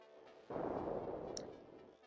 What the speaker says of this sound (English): Fires his rails, but most of them just bounce off those shields.